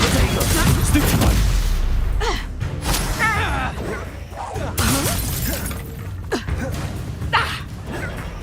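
Spell blasts from Hogwarts Legacy, several sharp cracking, shattering bursts and booms spread across the stretch, with a player's voice calling spell names between them.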